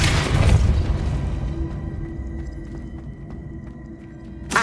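Depulso spell cast in Hogwarts Legacy: one loud, deep boom at the start, fading into a low rumble over a few seconds, with a short burst at the very end.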